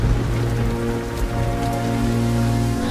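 A rainstorm pours down in a dense, steady patter of raindrops striking a surface, even and continuous for a few seconds without voices.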